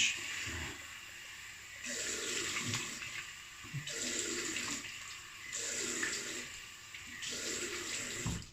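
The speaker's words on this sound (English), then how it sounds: "just doing a cold water rinse quickly." A bathroom tap runs for a quick cold water rinse of the face, a soft steady gush of water that swells and drops in several bursts as hands splash under the stream, faint and with no talking.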